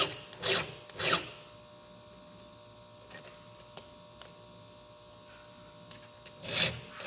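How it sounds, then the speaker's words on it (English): A saw chain being filed by hand, a few quiet rasping strokes in short bursts with long pauses and small ticks between them, close but faint, no voices. "I'll just keep hand filing my saws."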